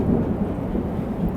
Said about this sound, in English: You can hear the thunder in the background there.